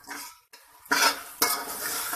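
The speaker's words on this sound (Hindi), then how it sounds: "इसको टमाटर सॉफ्ट होने तक पकाएंगे" Tomatoes and chicken cook in a pan with a spoon stirring and scraping against the metal, giving two sharp clatters over a low sizzle with no voices.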